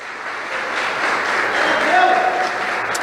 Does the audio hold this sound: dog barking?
no